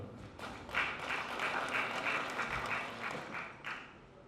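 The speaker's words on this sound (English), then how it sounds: "Please, can you clap for him?" An audience at a national political symposium in Nigeria gives a short round of clapping, a dense and steady patter of many hands at moderate distance that fades toward the end, with no speech over it.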